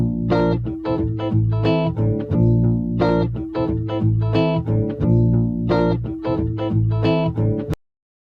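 Hip-hop type beat, built in BandLab, with a steady loud mix of booming bass, rhythmic drum hits and bright melodic layers running continuously for about eight seconds before cutting off abruptly.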